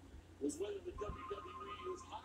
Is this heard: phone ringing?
yes